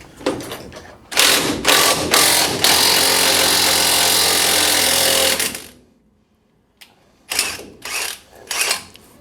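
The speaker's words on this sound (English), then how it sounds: "using an impact wrench doing this, a whole lot easier than the old school with a wrench" An impact wrench tightens clamps in loud rattling bursts: two short hits, then a sustained hammering run of about three seconds. After a pause come several more brief bursts.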